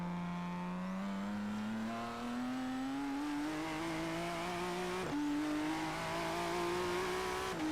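A modded Ford GT in Forza Horizon 3 revs hard and steadily climbs in pitch, a raw, continuous engine note with a quick gear-change dip near the five-second mark before it rises again, loud and close throughout.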